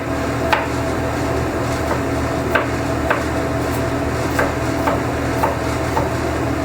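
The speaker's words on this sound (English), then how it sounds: "All you're gonna do, the garlic, is rough chop" A knife rough-chops garlic on a cutting board, sharp irregular knocks against wood spaced about half a second apart over a steady background hum, no talking.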